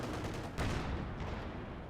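Cannon fire and battle noise in Company of Heroes 2 as a Pershing tank shoots at a Panzer IV, a dull boom partway through within continuous low rumbling gunfire, fairly faint and distant.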